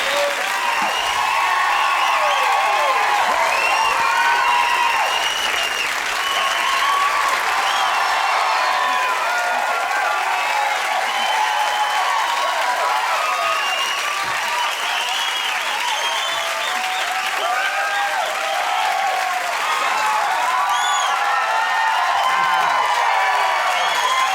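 A late-night talk show studio audience applauds and cheers for wrestler Hulk Hogan, a long, steady roar of dense clapping with whoops and shouts layered on top.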